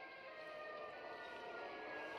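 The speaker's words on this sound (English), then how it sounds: "Yes, that's the Siren Head sound." The Siren Head monster's siren call in a Lego block short film: a sustained, droning siren wail holding steady tones throughout, fairly faint and with no voices over it.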